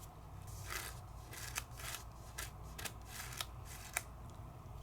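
Small scissors fussy cutting a stamped paper piece make quiet, repeated snips in an irregular rhythm, faint and close over a low background hum, with no talking.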